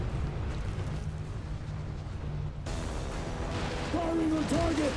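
Explosions and gunfire from the Outriders video game roll on as a dense, continuous low rumble of blasts, with a brighter burst and some tonal effects near the end.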